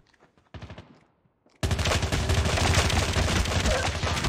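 Rapid automatic gunfire in Call of Duty Mobile multiplayer, a short burst first, then after a brief pause a sustained loud stream of shots with dense, fast repeated reports.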